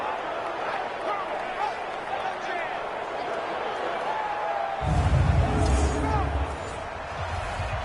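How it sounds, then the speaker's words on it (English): Deafening football stadium crowd roars at an NFL game in Seattle, Rams versus Seahawks, a dense continuous wall of cheering that swells louder midway, with a commentator talking over it. "Combined with this crowd noise, makes it very difficult to run offense."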